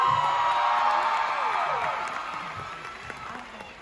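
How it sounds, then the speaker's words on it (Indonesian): Audience clapping and cheering on an Indonesian entertainment show, a brief burst of applause with whoops that fades over a few seconds. "Tepuk tangan dulu dong."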